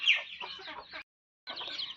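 A penned hen with six newly hatched chicks clucks close by in a village yard, in two lively bursts split by a short silence, with higher peeping mixed into the calls.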